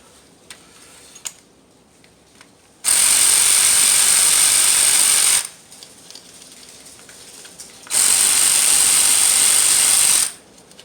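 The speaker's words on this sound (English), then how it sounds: "So I'm going to remove all these 4 bolts" Ignition coil bolts being removed from a 2010 Nissan Sentra with a power tool, two loud sustained whirring bursts of a few seconds each, separated by quiet pauses with faint clicks and handling noises.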